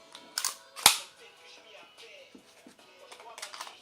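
A Zoraki 925 blank pistol fires indoors: a few sharp close cracks, one notably loud, followed by quieter clicks and handling noises, with no talk.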